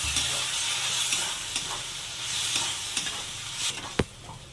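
Okra fries in a spiced masala and sizzles loudly and continuously as a little water is added, close-up frying hiss with a sharp knock of a utensil near the end.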